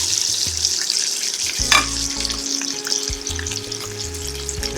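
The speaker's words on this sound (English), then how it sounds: "let it sear on each side" A sous vide filet mignon sears in a hot pan with a loud, close, steady sizzle that briefly flares with a clatter partway through. A low hum runs underneath and no one speaks.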